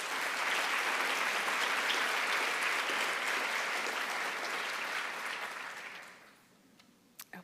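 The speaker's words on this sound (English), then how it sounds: "Let's give another round of applause." Audience applause at a college convocation, a dense, steady roar of many hands clapping that holds strongly for about six seconds, then thins out and fades to a few scattered claps near the end.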